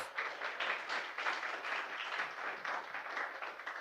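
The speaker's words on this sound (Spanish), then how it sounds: "Un fuerte aplauso a nuestro Dios." A church congregation applauding during a Pentecostal service, sustained rhythmic clapping from many hands with a pulsing, slightly uneven beat, fairly distant and soft throughout.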